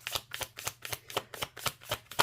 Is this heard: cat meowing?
no